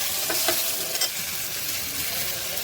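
Eggplant pieces frying in oil produce a continuous close sizzle, with a few sharper stirring or spatula clicks early on and no talking.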